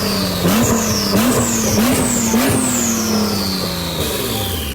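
A 2024 Nissan GT-R engine idles and revs in repeated rising bursts on its first start after repair, each blip climbing and falling back, close and loud with a whining high tone above the engine note.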